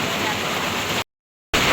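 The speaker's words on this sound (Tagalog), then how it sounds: "sobra pong lakas na po ng ulan" Heavy rain pours steadily outside a hut during a downpour, a loud, dense broadband hiss that continues unbroken apart from a brief silent gap partway through.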